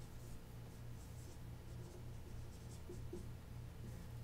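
Pen scratching across paper in steady, faint strokes, a soft continuous scribble with a low hum underneath and no talk.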